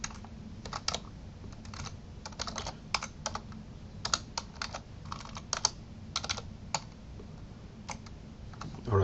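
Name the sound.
typing code on a computer keyboard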